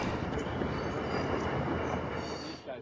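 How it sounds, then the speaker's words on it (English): Amtrak 11, a passenger train heading south, rolls past at close range with a continuous heavy rumble of wheels on track and a faint high squeal, steady throughout. "A safe trip to Amtrak 11 on its way south."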